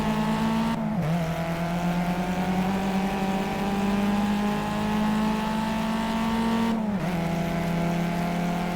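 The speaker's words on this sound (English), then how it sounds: "I use my trusty Rally Bugatti Veyron" An off-road Rally Bugatti Veyron driven in the racing game Project CARS, its engine a loud continuous drone that climbs steadily in pitch, with two brief dips as it shifts gears.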